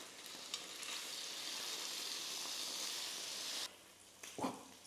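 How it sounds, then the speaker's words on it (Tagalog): Pork belly fries in a pan with a dense, steady sizzle that runs for several seconds, then drops off abruptly and leaves a few soft clatters and scrapes. "Iprito lang muna natin ito hanggang mag-brown na yung isang side na nasa ilalim"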